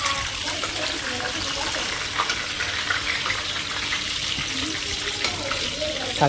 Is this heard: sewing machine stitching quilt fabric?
no